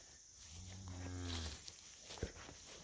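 A cow from a grazing cattle mob lets out a single low, drawn-out moo close by, with faint outdoor background noise and a soft thump afterward.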